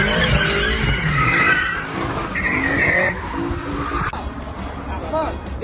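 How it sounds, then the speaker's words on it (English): Cars doing donuts on a main road in Dagestan while blocking traffic give off a loud, continuous tire squeal and skid with revving engines. A crowd's babble runs underneath throughout. "shows a group of motors, including one carrying Hasbulla, blocking traffic and doing donuts on a main road"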